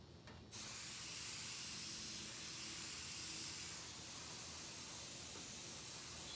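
An airbrush sprays paint onto fibrous fabric in a steady, close, loud hiss that begins abruptly after a brief moment and holds almost unchanged to the end.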